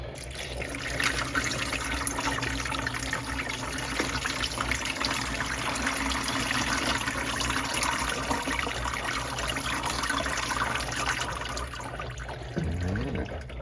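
Tumbled peach and green aventurine stones being rinsed under running water, a steady close stream and trickle lasting throughout with a brief clatter near the end.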